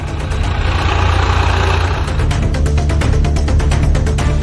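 Tractors run over rotten watermelons in a field, a loud, steady engine drone with a rapid rattling, crunching pulse building in the second half.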